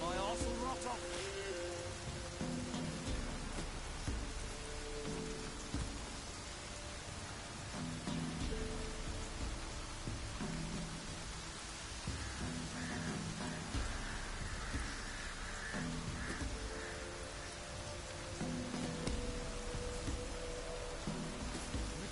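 Steady rain falls in a continuous soft hiss, with faint low rumbles and indistinct background voices underneath.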